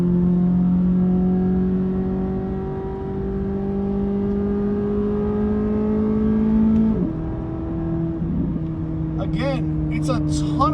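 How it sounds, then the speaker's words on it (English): Sports car exhaust droning at steady revs, rising and then dropping off as the throttle lifts, followed by a few sharp crackling pops from programmed backfires, with someone talking over it. "You can really hear the exhaust now, a little bit of program backfires."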